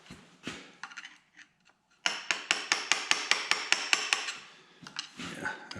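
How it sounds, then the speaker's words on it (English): A screwdriver taps down a part during a Farmall Super C engine rebuild: a few scattered metallic clinks, then a quick, even run of about a dozen sharp ringing taps, close and clear, followed by a few more knocks. "I'm going to get a screwdriver and just tap that down"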